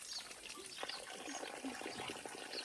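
Water trickles and splashes softly from a mountain spring near Almora, a faint, steady babble heard outdoors.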